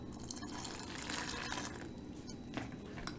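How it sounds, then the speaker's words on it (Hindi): Water pours steadily into an iron pan while flaxseed shampoo is being made, a faint, even splashing trickle with no talking. "पानी डाल देंगे"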